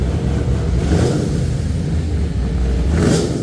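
A Camaro's LS3 V8 revs in two rising surges with a throaty, rumbling roar, close and loud, the engine settling briefly between bursts.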